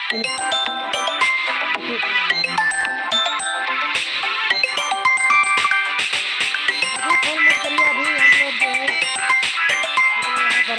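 A busy, melodic phone ringtone plays steadily for several seconds, fairly loud and close, with no one talking over it.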